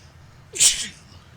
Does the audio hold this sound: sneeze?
yes